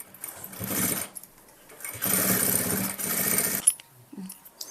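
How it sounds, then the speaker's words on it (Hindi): A sewing machine runs in several short bursts while stitching a seam on nightie fabric, close and fairly loud, with brief quiet pauses between the runs and no talk. "ऐसे मार्जिन को इधर एक साइड करते हुए एक सिलाई हम यहाँ ऐसे चला देंगे"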